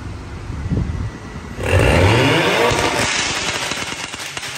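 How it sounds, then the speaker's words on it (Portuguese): A Volkswagen Fusca fitted with a 200 hp TSI engine on a stage 2 remap revs hard from idle, the engine note climbing steeply to a loud, sustained high-rpm roar of around 6,000 rpm and then slowly easing off. "Vamos dar mais uma acelerada"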